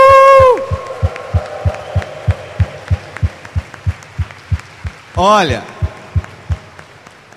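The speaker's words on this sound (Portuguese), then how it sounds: "salva de palmas para Ele." A Mass congregation claps in unison, a loud regular rhythmic beat of synchronized palms continuing throughout, while a voice speaks and cheering whoops rise briefly near the middle.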